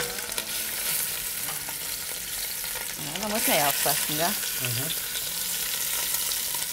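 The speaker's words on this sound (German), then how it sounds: "Und das braten wir jetzt mehr oder weniger rundherum an." Lamb shanks sear in a pot on the stove, a steady sizzle and frying hiss running throughout, with a short burst of speech over the middle.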